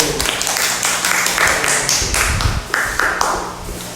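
Classroom applause for a group of student presenters, a dense burst of many hands clapping loudly and close, with no talk over it.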